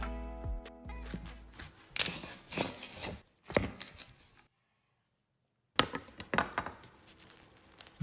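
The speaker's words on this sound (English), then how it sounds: "Let's cut this thing in half." Close crackling and crunching as a knife saws through the crispy coating of a Japanese karaage fried chicken sandwich, in bursts separated by a brief silence, then more crunching.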